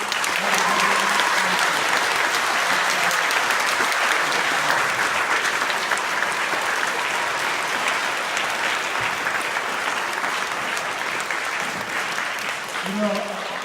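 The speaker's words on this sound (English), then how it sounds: "Would you help me give them a round of applause" A school audience gives sustained, loud, dense applause for teachers and support staff at a Milken Award assembly, clapping continuously for over thirteen seconds with a faint voice near the end.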